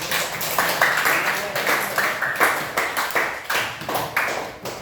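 A group claps together in a steady patter of bursts, fairly close, with some voices mixed in beneath the applause.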